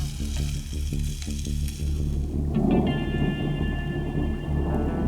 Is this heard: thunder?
yes